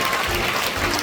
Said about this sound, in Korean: 우리 현지 사역자들을 위한 뜨거운 격려의 박수 다시 한번 부탁드립니다.